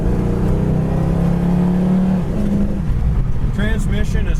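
A 1968 Ford Mustang coupe engine revs while driving, a loud, steady low drone with a rising pitch sweep partway through, continuous throughout and heard under talk.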